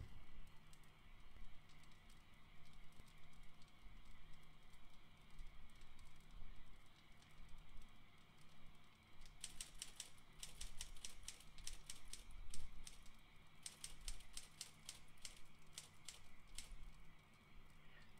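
Bursts of rapid mechanical typing clicks from the video game Friday the 13th: The Game, in two runs over a steady low background hum, fairly close and moderately loud.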